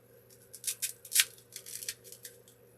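Scissors snip through pieces of dry grapevine for a candlestick arrangement, a quick run of sharp, close clicks and cuts, one louder snap in the middle, heard alone in a quiet room.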